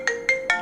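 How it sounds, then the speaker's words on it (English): A phone ringtone for an incoming call sounds three quick bright chirps in rapid succession, close and clear, with no one talking. "Here's the phone call."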